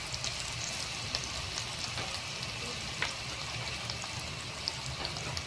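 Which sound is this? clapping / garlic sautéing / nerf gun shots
garlic sautéing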